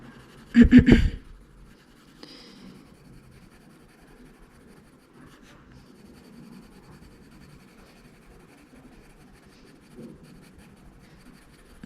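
A marker colors lightly around the edges of a botanical coloring page, making a faint, soft scratch on paper after a brief louder knock at the start.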